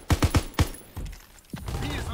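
Gunfire in Call of Duty: WWII, a quick burst of four close, heavy shots in a steady rhythm, then a lone shot and scattered battlefield noise with a later thump.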